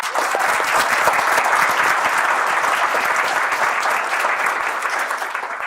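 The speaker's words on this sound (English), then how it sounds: "Let's give them a round of applause." Audience applause at a military officer commissioning ceremony, a dense, steady wash of many hands clapping close by for several seconds, with no talk over it.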